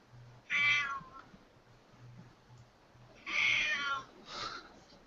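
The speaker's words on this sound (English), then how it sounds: "Sorry about my cat." A pet cat meowing indoors, two loud, drawn-out meows a few seconds apart and a shorter one at the end, close to the microphone over faint background hum.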